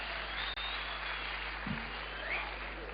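An audience at a comedy laughter-challenge show during the Kullu Dussehra festival breaks into dense, steady applause that fills the whole moment, loud and close, with no pauses.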